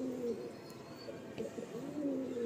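A female loft pigeon coos softly nearby, giving two low, drawn-out rolling calls separated by a short pause in a quiet setting.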